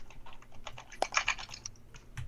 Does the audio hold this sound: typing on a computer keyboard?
yes